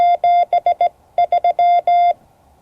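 Morse code sent as a clear single-pitch beeping tone spells out 73, meaning best regards: two quick bursts of short and long beeps separated by a brief pause, then silence.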